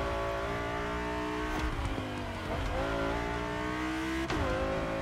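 An Audi V8 Spider's engine revs hard in The Crew Motorfest, a loud, steady mechanical drone with rising and falling pitch as gears shift and the car accelerates.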